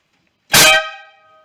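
Air horn fitted to a 1956 Jeep Willys CJ5 gives one loud, close blast of about a quarter second, a rich layered tone that rings on and fades over most of a second, alone with no talk.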